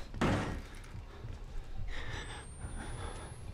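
A door shutting in the Outlast horror video game gives one dull, close thump near the start, followed by quiet room tone and a faint high whine.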